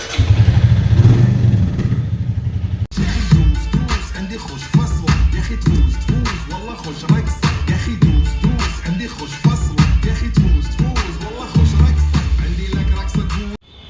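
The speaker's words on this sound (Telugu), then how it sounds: "లైట్గా ఇంజన్ ఒకసారి ఆన్ చేద్దాం" A motorcycle engine fires up after a brief idle and keeps running with a steady, loud, slightly rattling throb close by, with small revs along the way.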